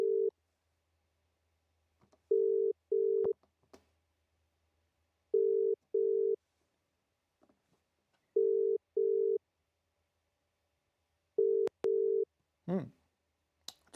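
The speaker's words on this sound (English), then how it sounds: "Well, it's ringing, which is always a good thing." An outgoing phone call's ringback tone sounds as a double ring repeated about every three seconds, four times in all, clean against near silence before a brief voice at the end.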